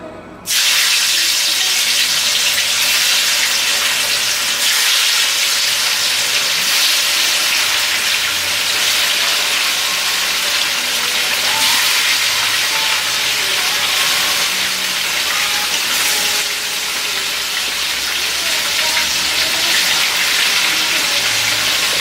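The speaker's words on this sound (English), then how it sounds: "I have hot oil going on the fire and I'm going to fry that" Hot oil on an open fire, readied for frying fish for jollof rice, gives a loud, steady broadband hiss and sizzle that runs unbroken and close throughout, with no voices.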